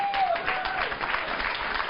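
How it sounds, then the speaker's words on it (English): Applause and clapping from a studio audience during a late-night political comedy talk show, steady dense clapping filling the whole stretch at moderate loudness with no talk over it. "even Trump's clapping."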